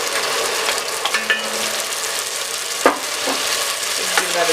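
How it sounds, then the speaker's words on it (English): Tomatoes frying in a pan for groundnut soup: a steady sizzle with occasional scrapes and clicks of stirring, close and continuous with no talking. "Now while the tomato is frying, I'm going to keep an eye on it, make sure to stir from time to time"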